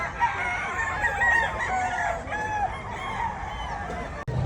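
An SBR bloodline gamecock rooster crows at a bustling poultry market in Bulacan, its long, wavering call sounding close and loud over constant crowd chatter and other birds.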